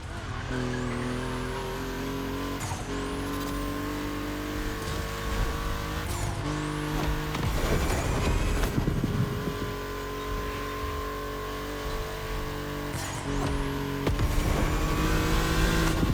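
A Porsche 965 Turbo tuned past 400 horsepower races in The Crew Motorfest, its engine revving up and down through gear changes, with tire squeals and skids and a steady loud drone and no talking.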